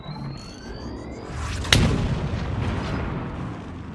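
A cannon in the video game Forts fires one loud booming shot, followed by a rumbling tail over the battle ambience.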